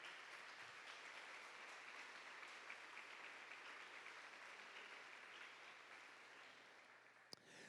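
Congregation at an Easter church service applauding, a broad, sustained roll of clapping from many hands heard at a distance and fairly soft, tapering slightly near the end.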